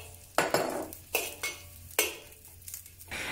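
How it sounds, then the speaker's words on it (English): Garlic slices sautéing in peanut oil in a wok over medium heat, a soft sizzle broken by several sharp scraping stirs of a metal utensil against the pan, close and with no talk. "saute the garlic slices for about half a minute or until it turns aromatic"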